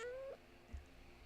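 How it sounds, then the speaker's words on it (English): A pet cat close to a microphone gives one clear, fairly loud meow with a rising-then-falling pitch, followed by a faint soft thump and quiet room noise. "Cat! Get off the microphone."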